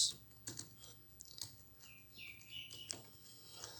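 Keys clatter softly on a computer keyboard during coding in VS Code, a few light taps spaced out over several seconds, faint and close, with no speech.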